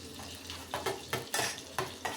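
Garlic cooks in vegetable oil and butter in a pan under a soft sizzle, while a utensil stirs in regular scraping strokes about every half second, close and unaccompanied by speech.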